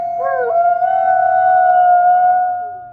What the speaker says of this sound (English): Perhaps the most well-known characteristic of the gray wolf is its penetrating, hauntingly beautiful howl.